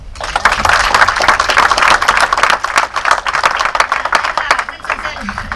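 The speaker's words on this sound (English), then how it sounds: "So give us an applause." Audience at a political rally in New England clapping and cheering, a dense, steady wash of many hands close by with voices mixed in.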